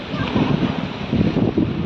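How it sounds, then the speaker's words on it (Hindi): Steady roaring wind and surging sea waves at the Marine Lines Chowpatty seafront in Mumbai, a loud broad rush with gentle swells, with wind buffeting the microphone throughout. "समुद्र में बढ़िया अच्छी लहरें के साथ साथ ठंडी ठंडी हवा के साथ आनंद लेते हुए"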